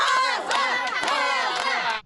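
A loud organized crowd cheers and chants together as Rosa the parrot arrives home, a dense roar of many shouting voices that holds steady before cutting off abruptly.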